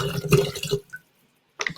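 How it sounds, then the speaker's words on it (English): Bottled water poured into a kettle, a short close gurgling pour that stops abruptly, then a pause and another brief burst of splashing. "Fill the kettle with the desired amount of water."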